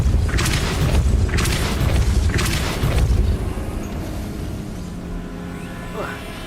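Depulso spell cast in the Hogwarts Legacy video game, heard as a run of loud booming bursts about every second for three seconds, followed by a lower rumbling tail and a faint whoosh near the end.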